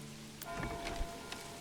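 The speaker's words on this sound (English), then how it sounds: "pouring rain here again in September, so miserable weather as we're trying to get our church established." Pouring rain in the medieval city-building game Manor Lords, a steady, soft hiss of falling water in September weather, with faint drops and patter across the whole stretch.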